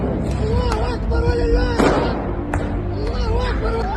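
Firecrackers fired by rioters near a mosque, sharp loud bangs and cracks repeating over a noisy crowd scene with shouting voices.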